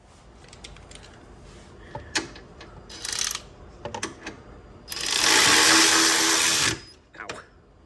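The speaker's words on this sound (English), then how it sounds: "ratchety wrench." Ratchet wrench driving a bolt while a KFI winch goes onto a 2018 Polaris Ranger 900 XP, scattered close clicks and clanks, then a loud sustained two-second whirring burst, followed by a few more taps, with a voice speaking briefly.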